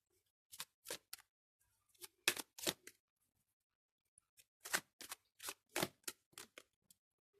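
Tarot cards being shuffled for a reading, close and quiet, in short crisp bursts of riffling and slapping separated by brief pauses.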